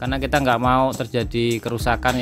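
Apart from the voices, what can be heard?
None of the usual background noises is heard.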